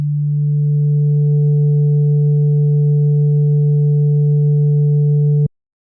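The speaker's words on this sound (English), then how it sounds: "We're going to start with the sine wave." A pure sine wave runs through a waveshaping harmonic plugin, holding a steady, loud tone with a couple of faint added harmonics for about five seconds before it cuts off abruptly into silence.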